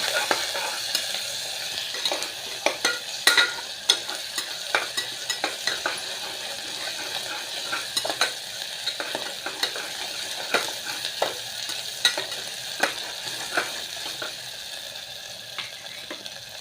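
Ginger-garlic paste fries in a pan for khichdi, giving a steady close sizzle broken by frequent sharp scrapes and clicks of a spatula stirring against the metal.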